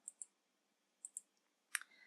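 A computer mouse clicking through frames: faint, crisp clicks in two quick pairs, then a denser burst of clicks near the end, with near silence between.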